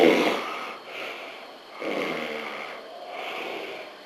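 A patient snoring loudly in a clinical recording, with three long, rough, rasping breaths at an even rhythm and brief quieter gaps between them, close and alone with no talk.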